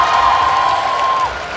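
Audience at a Sunday cosplay show cheering and applauding for cosplayers, a loud, continuous crowd din with shouts and whoops layered over it, plus a long sustained high whistle-like tone that fades out near the end.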